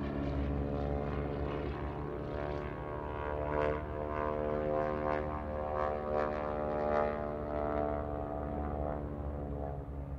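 A propeller aircraft flies a wing walking display at the Farnborough air show, its engine a strong, droning hum with layered harmonic tones that pulse and waver as it passes nearby.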